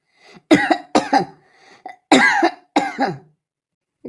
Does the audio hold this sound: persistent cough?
yes